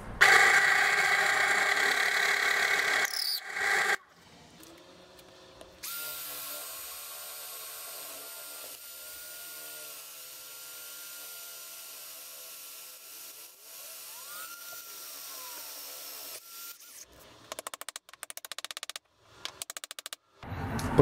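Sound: drilling through wood from the reverse side

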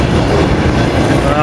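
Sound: freight train wagons passing

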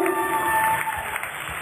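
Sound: audience applause for the instructor

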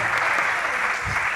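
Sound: applause

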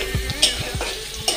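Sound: spices frying in a pan while cooking

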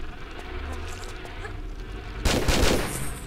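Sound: gunshot in the Tomb Raider video game

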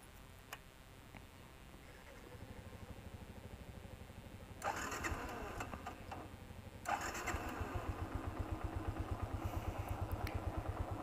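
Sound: Yamaha Byson motorcycle engine starting and running

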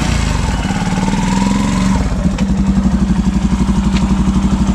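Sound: Yamaha FZS V3 motorcycle accelerating, pickup test

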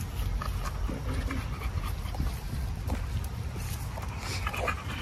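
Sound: dogs panting

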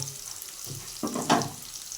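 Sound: eggplant and potato pieces frying in oil

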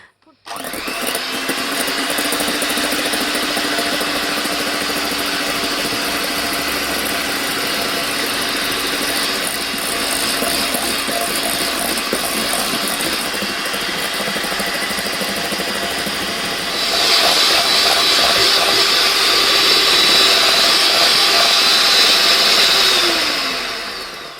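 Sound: electric mixer whipping egg whites and sugar into meringue

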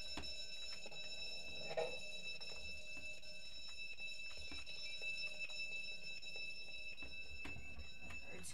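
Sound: alarm bell ringing in the video game Roblox Jailbreak

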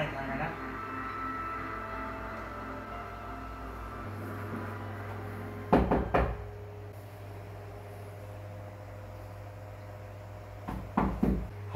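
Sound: knocking on a door

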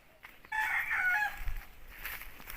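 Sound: chickens, rooster crowing

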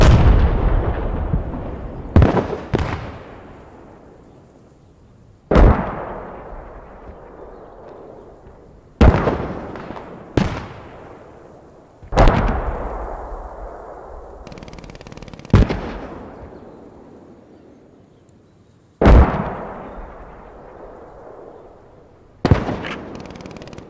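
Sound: mortar artillery fire in the video game Post Scriptum

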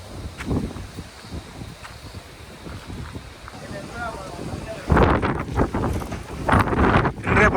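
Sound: strong wind

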